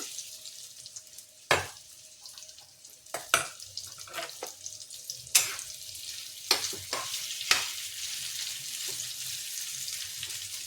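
Onions frying in a pan, with a steady hiss of sizzling under occasional sharper scrapes and clinks as they are stirred, close and moderately loud.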